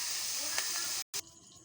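Shrimp fry in hot oil in a pan with a loud, steady hiss that cuts out for a moment near the end and then resumes more quietly.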